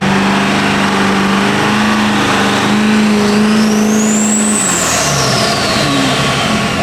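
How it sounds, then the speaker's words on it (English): A loud 2022 Ford F-250 diesel pickup engine on a dyno drones steadily, then winds up into a rising, whining rev that peaks and falls away, with a constant roar throughout. "we got this truck on our in-house dyno"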